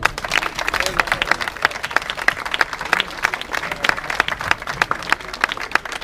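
Audience applause at the 20th book fair in Saint-Laurent-du-Var: distinct, sharp hand claps pile up in an uneven, lively patter from a modest crowd, staying close and clear for about six seconds.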